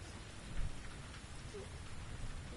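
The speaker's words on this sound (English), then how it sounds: "Could I persuade you to come out of the rain, Flora?" Steady rain keeps falling in The Invisible Hour, a VR video game, a soft, even wash of drops that stays constant and fairly quiet throughout with no voices.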